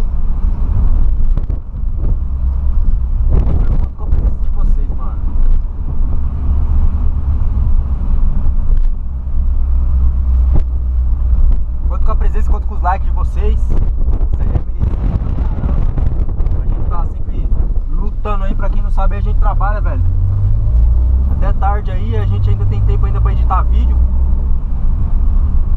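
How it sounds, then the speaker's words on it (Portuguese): A Volkswagen Polo fitted with a sports exhaust drives along with a deep, steady low rumble, while someone talks over it for most of the stretch. "eu tô com o escapamento esportivo do Polo"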